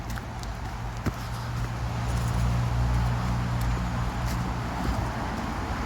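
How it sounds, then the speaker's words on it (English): Steady road traffic noise beside a canal footpath, a continuous low rumble of passing vehicles close by, rising and falling slightly with no voices. "And as you can see, noisy road."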